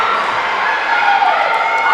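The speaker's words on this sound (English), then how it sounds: "And the crowd goes crazy." Volleyball match crowd in a gym roaring and cheering after a point, a steady loud wash of voices throughout.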